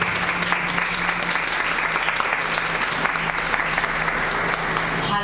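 A church congregation applauding a preacher at an evening service, loud sustained clapping from a large crowd filling the room, with a voice faintly underneath.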